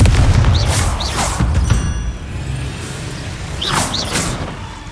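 Confringo fire spell blasting in the video game Hogwarts Legacy, loud booming bursts with whooshing flares, two clusters of impacts over a rumbling game background.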